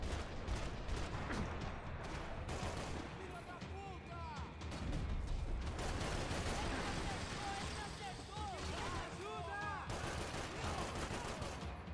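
Sustained gunshots from a firefight in Max Payne 3 at a pier, dense and continuous with brief lulls, mixed with game effects and some voices.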